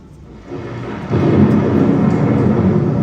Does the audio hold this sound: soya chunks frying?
no